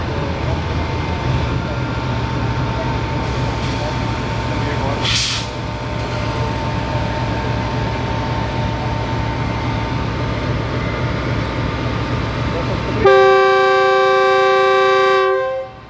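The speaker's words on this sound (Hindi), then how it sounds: "on time initial departure on हो गया है 28 डाउन शालीमार एक्सप्रेस का साहिवाल रेलवे स्टेशन से" Shalimar Express train at Sahiwal railway station starting its departure, a steady low rumble of engine and platform noise with a brief hiss, then a loud sustained horn blast near the end.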